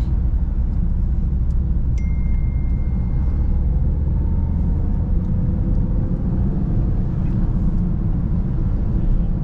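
A Honda Brio car engine drones steadily while the car drives uphill into highland country, a constant close hum with road noise and no voices.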